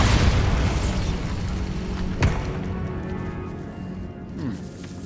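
A Bombarda spell explosion in the video game Hogwarts Legacy, with a loud rumbling boom at the start that slowly fades, then a sharp thump and faint debris rattling.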